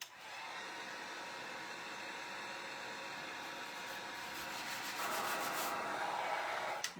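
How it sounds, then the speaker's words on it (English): A steady, close abrasive rubbing as a small Christmas craft piece, a stocking or tree decoration, is sanded, a continuous hiss that brightens slightly toward the end. "I'm even going to sand this, even though this isn't much."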